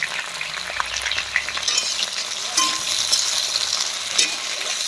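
Bitter gourd slices with few seeds fry in a pan while being stirred. A constant crackling sizzle runs under repeated scrapes and knocks from the stirring, close up and with no talk.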